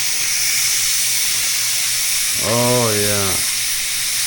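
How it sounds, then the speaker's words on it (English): Steam hisses loudly and steadily from a Power Pressure Cooker XL being opened after cooking baby back ribs, under a brief spoken exclamation. "Let's open it up, get the steam out."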